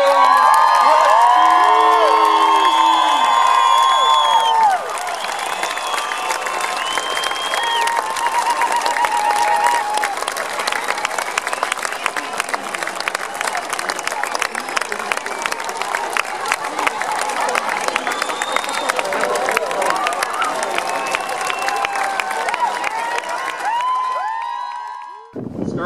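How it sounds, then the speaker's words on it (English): A large crowd claps and cheers at the grand opening of the Wayne Gretzky Sport Centre, with loud sustained applause and scattered whoops that fill the space and continue for a long stretch before cutting off abruptly. "biggest round of applause for the world's famous, most famous father and the great one"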